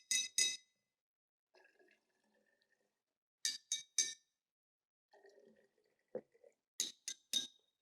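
A spoon taps a glass bottle holding a small amount of water, giving bright, high, ringing notes. The strikes come in three spaced groups of two or three quick taps, with quiet gaps and faint background sounds between them.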